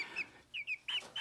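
A chicken from a hatchery clucks in a short series of bright, close calls with brief pauses between them, heard alone without any talking.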